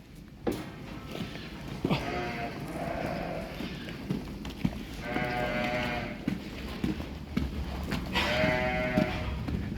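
A male sheep in a pen gives several drawn-out bleats at moderate distance, with shuffling and hoof knocks between the calls.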